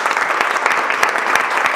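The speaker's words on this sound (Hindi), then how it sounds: "एक बार ताली बजाओ अपने घर वालों के लिए" Audience applause with dense, continuous clapping that holds steady and fairly loud throughout, no voices standing out.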